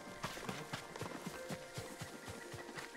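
A horse gallops in the Ghost of Tsushima video game, hooves striking in a quick, steady clip-clop rhythm, close and clear with no talking over it.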